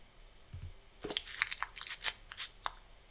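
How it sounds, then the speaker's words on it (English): Close, dry munching sound effect with several crunchy bites and chews in an uneven rhythm, louder in the second half, with no talking. "Yep, it is the munching sound."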